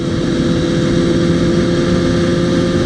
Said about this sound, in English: It is a 2005 Kawasaki Ninja ZX6r 636, and she's awesome. She's running like a champ.